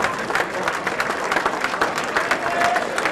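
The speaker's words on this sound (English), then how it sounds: "Come on, a round of applause." Crowd applause at a boxing promotion event at Leeds football club, a dense continuous clapping from a large gathering with crowd murmur mixed in, steady and moderately loud throughout.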